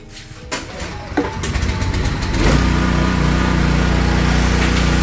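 A PK160A inverter welding generator runs during a welding test with a 7018 rod: an engine drone that climbs midway, then settles into a loud, steady hum with a constant crackle on top, close and continuous.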